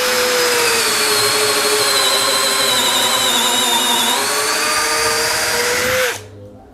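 A Power Action BID20 cordless hammer drill bores lengthwise into a long piece of wood at its lowest speed, making a loud, steady, high motor whine that runs for about six seconds, dips slightly in pitch, then cuts off.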